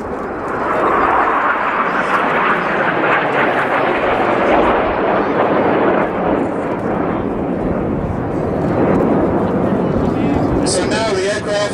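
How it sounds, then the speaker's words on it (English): Eurofighter Typhoon jets roar overhead as they climb in formation at an air display, a loud, broad, sustained jet rush that stays steady throughout and fades slightly at the end. "he's rolling back to form Typhoon formation as Jace pulls them up in 4G as they climb in"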